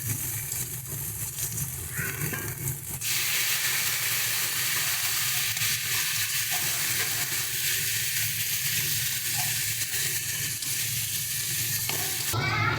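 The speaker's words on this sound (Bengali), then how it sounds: "এবারে দিয়ে দিচ্ছি টমেটো কুচি" Chopped tomato hits hot spiced oil in a pan, the frying bursting into a loud, steady sizzle after a quieter start, with stirring scrapes and no talk.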